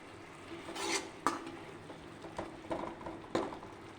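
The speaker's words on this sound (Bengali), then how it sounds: "এখন মশলাটা কষিয়ে নিই" A spice masala being stir-fried in a pan with a splash of dishwater added, heard as quiet scraping and clinking of a utensil with a few sharper knocks against the pan over a low background.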